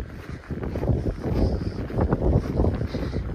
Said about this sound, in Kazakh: Ой, жел кетті.